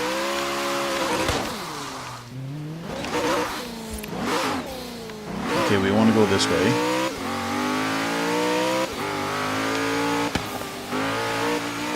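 A car's engine revs and climbs through gears in the video game Forza Horizon 3, loud and sustained with rising and falling pitch sweeps, while a person speaks briefly over it.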